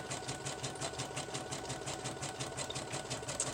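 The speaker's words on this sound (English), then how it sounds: "I'm zigzagging because I think that helps to reinforce the edges." A sewing machine zigzag-stitches along the edges of paper journal pages, making a rapid, even mechanical clatter that is quiet and close and keeps a steady rhythm throughout, with no speech.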